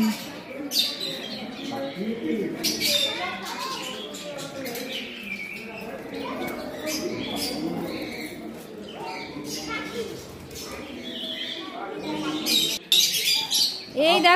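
Birds at a zoo chirp and squawk in scattered bursts, close and fairly clear, while people talk over them.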